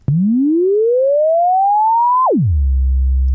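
A loud tone from Ableton's Operator synthesizer, pitch envelope at 100%, sweeps smoothly upward in pitch for about two seconds, then drops sharply with the decay and settles into a steady low drone.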